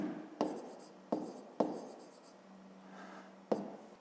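Pen or pencil writing out a fifth-grade math exercise by hand, a few distinct tapping strokes followed by soft scratchy scribbling, close and quiet with no talk.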